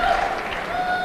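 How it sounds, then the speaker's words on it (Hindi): An audience claps steadily at a lively Hindi-language stage function, a dense continuous wash of hands throughout the short moment, with no voices heard. "जोरदार तालियां।"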